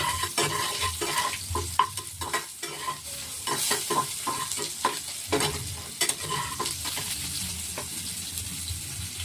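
Bitter gourd frying in oil with salt in a pan sizzles close up, with frequent scraping and clattering stirring strokes over the crackle.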